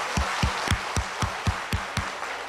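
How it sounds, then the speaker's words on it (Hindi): An audience at a Modicare success-story seminar claps together in a steady, quick unison rhythm, about four beats a second, loud and close over a wash of crowd noise with no talking. "जोरदार तालियां अपने सपनों के लिए"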